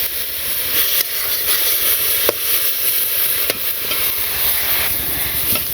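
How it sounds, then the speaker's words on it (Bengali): Leafy greens fry in a pan with a steady, dense sizzle and hiss, broken by a few sharp clicks of stirring, close and continuous without any talking. "তো শাকগুলো ভালো করে ভাজতে হবে।"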